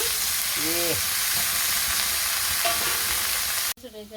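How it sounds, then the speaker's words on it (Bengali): Green chili, onion and leafy greens frying in a pan, a steady loud sizzle running throughout with faint stirring, cut off abruptly near the end. "এই যে কাঁচা মরিচ আর পেঁয়াজ মরিচ ভাজা হয়েছে আমি শাক দিয়ে দিলাম"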